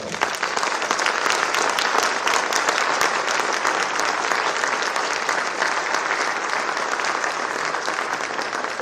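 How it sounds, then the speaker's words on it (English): An audience at a symphonic band event breaks into a big round of applause, loud, thick and sustained clapping from many people that continues evenly for nearly nine seconds. "This man deserves a big round of applause right now"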